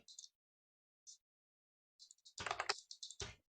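Typing on a computer keyboard to fill in form fields, quiet scattered key clicks with gaps of silence between them, then a denser flurry of keystrokes at the end, close and faint with no talking.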